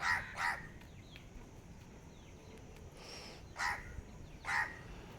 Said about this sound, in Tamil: காக்கா கத்திக்கிட்டே இருக்கு என்னன்னு கேளு எதுக்கு கத்துது காக்கா